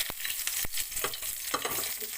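Curry leaves hit hot oil for sabudana khichadi, a crackling sizzle broken by sharp, sudden pops and spatters.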